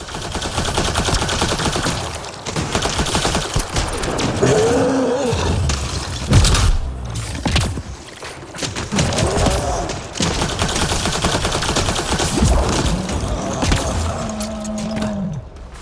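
Sci-fi weapon fire in the video game Mass Effect Andromeda: loud, rapid bursts of gunshots run almost continuously, with brief pauses, mixed with roaring game effects and combat noise.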